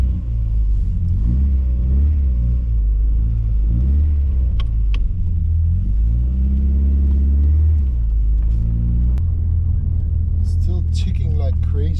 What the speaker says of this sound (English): Ticking like crazy, but Kenneth said it was okay, so